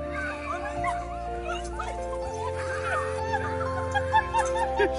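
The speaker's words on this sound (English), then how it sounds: "A schnauzer named Casey hasn't seen her owner in 2 years, which in all fairness is 14 long dog years." A schnauzer reunited with its owner after two years whimpers, whines and yips excitedly in a high, wavering series of cries, with a steady tonal background hum running underneath.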